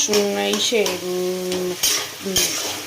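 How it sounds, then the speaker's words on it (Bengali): Taro leaves frying with salt and turmeric in a pan, stirred with a utensil: close scraping strokes and clinks over a steady sizzle, with short tonal squeaks between stirs. "আর আমি আগে এটাকে নাড়াচাড়া করব"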